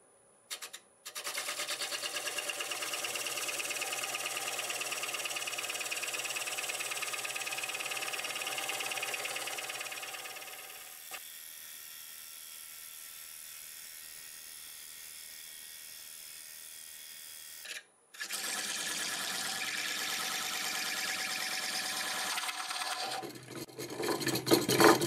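Wood lathe spinning at around 500-550 RPM while a tool cuts a bowl, a steady loud motor hum with cutting hiss, easing to a quieter drone midway, a brief stop, then full cutting noise returns.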